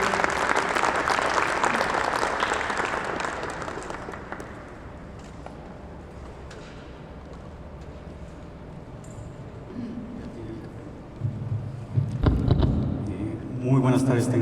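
Audience applause for a doctor at a book presentation in a hall, loud at first and then fading to a sparse patter before a few louder claps and rustles return near the end.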